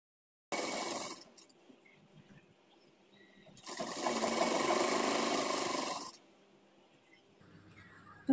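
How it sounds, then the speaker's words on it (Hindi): Two runs of a sewing machine stitch the center seam of a women's trouser. A short burst comes first, then a longer steady run of a few seconds, with quiet pauses around them. "पहले यहाँ पे सेंटर पे सिलाई लगाएंगे इस तरह से"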